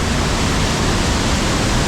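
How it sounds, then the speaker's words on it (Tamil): Roar of the Hogenakkal waterfall, a steady, dense wall of rushing water close by, loud and unbroken throughout with no voices. "இங்கே இருந்தால் சும்மா வாட்டர் சவுண்டாக கேட்குது."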